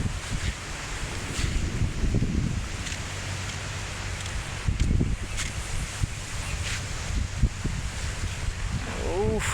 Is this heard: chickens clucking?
no